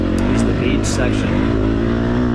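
Dirt bike engine revving hard on the throttle during a race on hard pack and sand, a loud continuous buzzing drone close by, with someone talking over it.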